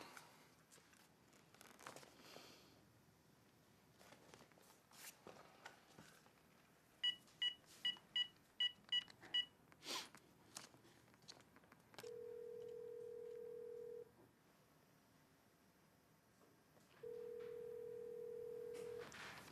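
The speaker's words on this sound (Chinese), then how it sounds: "你把那个金亮他爸的电话号码给我，我自己打，行了吧？" A home telephone being dialed: scattered handset clicks and fumbling, then a quick run of about eight keypad beeps, followed by two long, even ringback tones separated by a pause.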